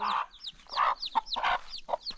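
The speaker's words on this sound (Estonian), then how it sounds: "Jaa, see on kana." A chicken clucks close by at a coffee farm in Colombia, a run of short, uneven clucks and squawks without any talking.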